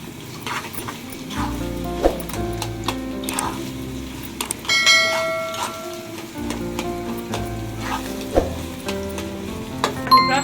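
Egg fries in a pan for vegetable noodles, a loud steady sizzle with repeated stirring scrapes and utensil knocks throughout, no voices.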